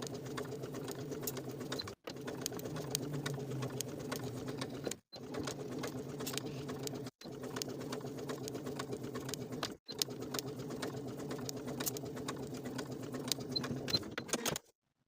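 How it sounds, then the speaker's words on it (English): A sewing machine stitches around the bottom hem of a wool jacket sleeve, a steady mechanical whir running in long stretches broken by four short pauses, moderately quiet and without talk. "Sew all the way around the bottom of the sleeve with a 3/8 inch seam allowance."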